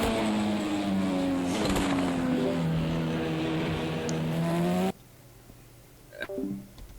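An LMP2 or GTE race car in Project CARS 2 takes a cooldown lap at Watkins Glen, its steady engine drone holding loud and even before cutting off abruptly, followed by quiet with a faint brief flicker.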